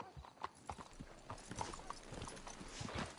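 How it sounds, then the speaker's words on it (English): Horses in the video game Red Dead Redemption 2 clip-clop along at a steady walking pace, hooves close and distinct, with a brief whinny and faint talk in the background. "Let's hitch the horses up ahead."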